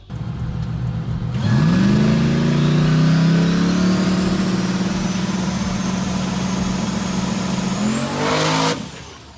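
A car engine cranks, catches and revs hard, its pitch climbing and holding for several seconds before abruptly cutting out.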